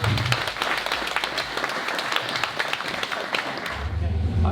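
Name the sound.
crowd applause at a boatyard event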